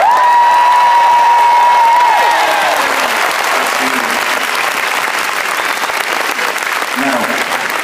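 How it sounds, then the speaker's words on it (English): A big live audience at a Rock Choir concert in Liverpool cheers and applauds loudly and steadily for Joanne James, a dense roar of clapping and shouts that carries on throughout, with a sustained tone and a voice audible over the first few seconds. "the biggest cheer you've done yet tonight for Joanne James"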